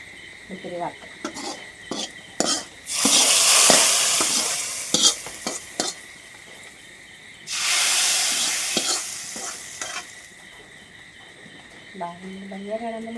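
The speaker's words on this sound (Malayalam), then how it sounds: "ഇത്തിരി വറുക്കാം." Curry sizzles in a hot pan in two loud bursts of frying, with stirring and light utensil clatter between them; a voice talks briefly at the start and end.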